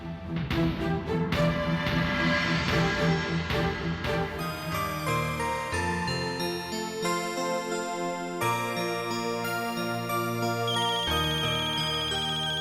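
A melodic phone ringtone plays on continuously, loud and close, a repeating tune of bright tones with no talking over it.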